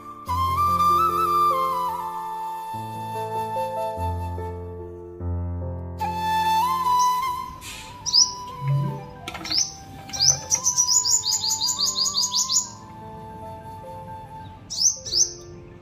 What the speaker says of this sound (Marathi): आपल्या दारात मस्त चिमण्या येत आहे